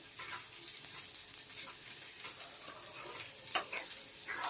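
Chapati egg stir-fry stirred in a pan, a steady soft sizzle with faint scraping strokes and one sharper clink near the end, close and moderately quiet, no talking.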